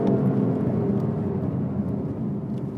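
Loud, steady drone of a BMW car engine circling a wet race track, a continuous roar with broad rushing noise and a few faint ticks, heard alone without talk.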